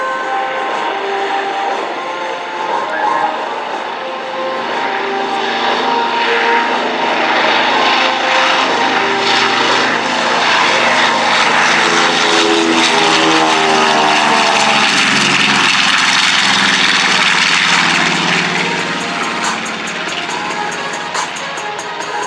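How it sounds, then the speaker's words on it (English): A B-25J bomber flies overhead at an air show, its big radial piston engines producing a loud, continuous throbbing roar that builds and shifts in pitch as the aircraft passes, with no talking. "About to hear those big round engines, the sound of history."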